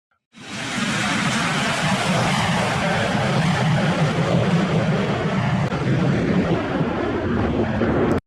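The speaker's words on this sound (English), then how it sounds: "Look at this crazy wind." Strong crosswind roars steadily across the microphone during an aircraft landing, a loud continuous broadband rush that holds unbroken from start to finish with no voices.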